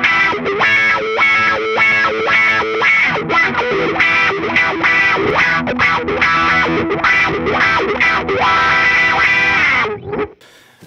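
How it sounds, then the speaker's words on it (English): Loud distorted electric guitar strumming chords through a wah pedal, the tone sweeping up and down rhythmically before cutting off near the end. "Let's try just some basic ideas of chords with Wah pedal."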